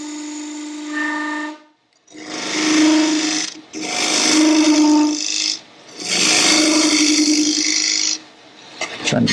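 A wood lathe turns a lidded box blank with no tailstock support while a Glenn Lucas bowl gouge cuts it. Three loud bursts of humming, vibrating cutting noise are split by brief pauses, and no one speaks.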